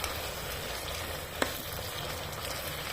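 Chicken and potatoes frying in a rice cooker make a close, steady sizzle with a dense crackling hiss throughout and one brief sharp tick partway through, with no talking.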